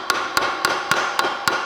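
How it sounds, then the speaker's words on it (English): Six sharp, evenly spaced hammer taps on metal tabs of a Vespa GTS scooter engine casing during disassembly, each strike ringing briefly with a hollow metallic tone, close and clear with no talking. "Another important tool you need when you're dismantling an engine is a hammer"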